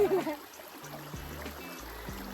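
Water trickles and flows gently in a stream at a nature resort, a faint steady babble heard close by with no talk over it.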